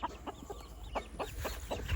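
A rooster clucks on a rural farm in a series of short, faint calls repeated at an uneven pace, with a low background hum and no voices.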